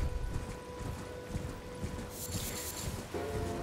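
Torrent, the horse in the video game Elden Ring, galloping with quick rhythmic clip-clop hoofbeats, quiet and steady, joined by a brief bright metallic flourish and a chime near the end.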